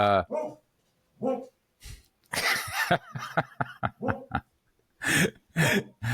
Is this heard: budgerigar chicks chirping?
no